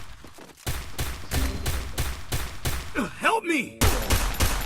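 Gunfire from the Counter-Strike video game crackles in quick, loud bursts of shots. Someone speaks briefly among the shots and a short warbling game sound effect cuts in near the end.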